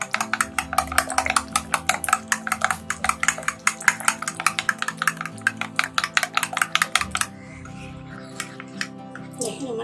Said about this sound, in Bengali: কর্নফ্লাওয়ারটা ডিমের সঙ্গে মিশিয়ে দিতে হবে।